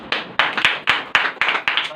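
A church congregation clapping during a Sunday sermon, a quick uneven run of sharp hand claps, close and fairly loud, with a faint voice beneath.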